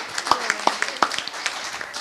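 Scattered handclaps from an audience at a 2013 candidate forum come in short, uneven bursts over a couple of seconds, with voices audible underneath.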